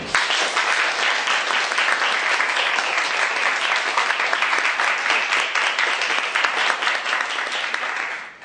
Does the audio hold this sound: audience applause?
yes